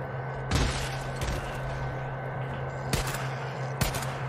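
Several sharp gunshots crack at irregular intervals over a steady electronic hum and background noise, from shooting in the video game Days Gone.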